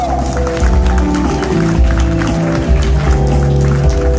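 Applause from an audience at a political forum launch rolls on steadily throughout, blended with music and a busy hall atmosphere.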